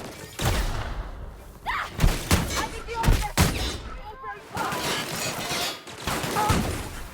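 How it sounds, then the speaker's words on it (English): Gunfire in The Outer Worlds: repeated bursts of shots and heavy thuds come in uneven clusters over several seconds, with a voice speaking between the volleys. "Stop shooting me, please."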